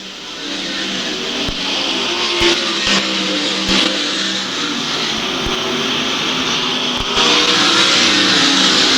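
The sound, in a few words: World of Outlaws race cars on dirt speedway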